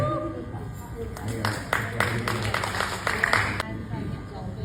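Brief, fairly close clapping from a small group at a game show, a few seconds of claps that rise and then stop, with people talking underneath.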